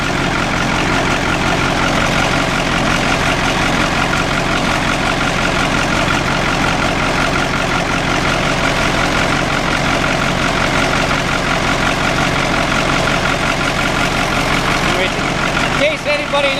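A tractor's diesel engine idles steadily with a heavy low rumble and a leaking exhaust, a loud continuous drone lasting the whole stretch while someone talks over it.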